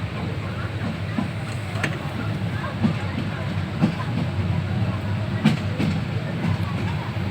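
A train travels from Chittagong station toward Dhaka, heard from inside the carriage. A continuous loud rumble carries faint rhythmic wheel clicks over rail joints, with muffled voices in the background.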